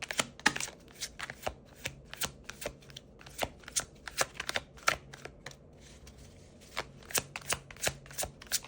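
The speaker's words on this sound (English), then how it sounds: "I like to shuffle the cards." Tarot cards are shuffled by hand in quick, crisp riffling bursts, a soft, close, repeated rhythm of papery snaps and flutters with short pauses between, and no talking.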